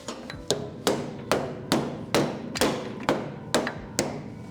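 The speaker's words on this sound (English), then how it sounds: "We might be able to smash that a little bit towards the inside and weld that also." A hammer strikes the metal frame rail of a Datsun car during rail repair: about ten sharp, evenly spaced, ringing blows close by, with no talking.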